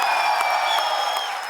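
Studio audience of a comedy talk show applauding and cheering as a singer is introduced: continuous crowd clapping with a few whoops, moderately loud and steady, with a sustained musical tone running underneath.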